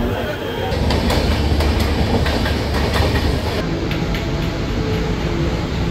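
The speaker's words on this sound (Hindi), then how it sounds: "पहले ट्रेन पकड़ेंगे मुलुंड से।" A Mumbai local train ride out of Mulund, heard from inside the carriage: a steady loud rumble with clickety-clack of the wheels over rail joints and wind noise, continuous throughout.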